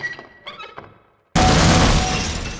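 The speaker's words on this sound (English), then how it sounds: "Target hit and glass broken." In the game Half-Life, a shot target smashes a pane of glass: quiet gunfire and clatter first, then a sudden loud shatter that rings and slowly fades.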